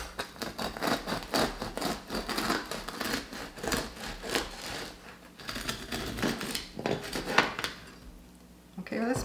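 A knife saws through a cooled loaf of homemade spelt bread, giving repeated crackly, rasping strokes against the crust with small clatters, close and moderately loud; a voice speaks briefly in between.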